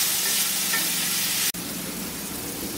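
Raw banana pieces frying in oil with onions, a loud steady close-up hiss and crackle filling the whole moment, briefly cut off by a sharp click before the sizzle continues slightly quieter.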